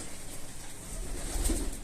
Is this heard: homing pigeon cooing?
yes